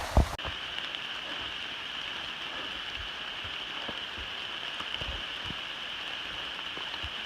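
Outdoors at night, rain falls in a steady, fine hiss with scattered soft drops and taps, and a sharper knock near the start. The sound is moderately quiet and there are no voices.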